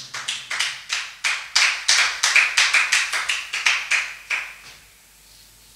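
A church congregation clapping in unison during worship, about twenty sharp, evenly spaced claps that are close and loud, then a pause as the clapping stops.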